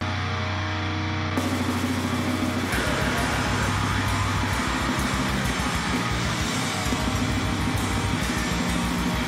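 An extreme metal track moves from a slow, doomy opening into a dense, relentless wall of distorted guitars and rapid blast-beat drumming, loud and chaotic throughout.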